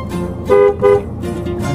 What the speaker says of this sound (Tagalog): Pindutin nyo na po ang busina.